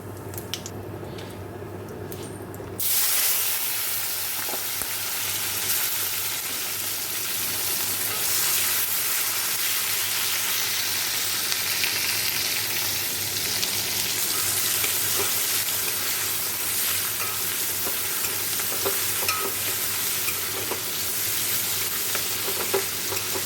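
Cumin seeds and dried red chillies dropped into hot oil for a tempering, bursting into a loud, dense sizzle after a quiet start that holds steady and close for about twenty seconds, with faint crackles throughout.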